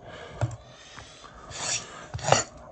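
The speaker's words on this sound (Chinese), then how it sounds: "把残留的猪毛也给它刮掉了" Pork skin being scraped clean of leftover hair with a blade, giving a few short rasping strokes, two louder scrapes standing out among softer rubbing, close and without talk.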